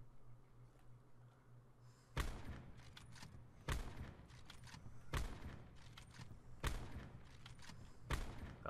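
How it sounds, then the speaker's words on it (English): Five sniper shots from a Paladin HB50 rifle in Call of Duty: Black Ops 4 ring out one at a time at evenly spaced intervals. Each report is loud and sharp, and a steady low hum sits underneath. "That was all five shots."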